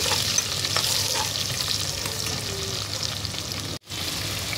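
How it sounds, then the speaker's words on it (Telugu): Green chillies and onion pieces fry in a pan for chicken pulao, a steady close sizzle with occasional stirring scrapes and a brief dropout near the end. "పచ్చిమిర్చి, ఉల్లిపాయ ముక్కలు అనేది బ్రౌన్ కలర్లో వచ్చే వరకు ఫ్రై చేసుకున్నామండి."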